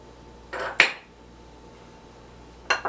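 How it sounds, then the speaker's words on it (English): Dry cookie ingredients of baking soda, baking powder and salt mixed in a bowl, heard as two quick clinking scrapes of a utensil against the bowl, then a third brief one after a pause, otherwise quiet. "I'm just giving it a good little mix here"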